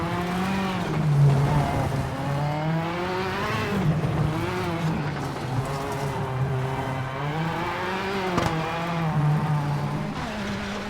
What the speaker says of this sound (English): I'd say the engines sound more aggressive